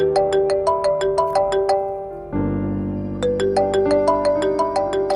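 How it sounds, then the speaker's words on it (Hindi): A phone ringtone plays loud and close, a bright repeating melodic phrase that runs through once, shifts briefly, then starts over. "फोन तो उठा लें, क्या पता कोई इमरजेंसी हो।"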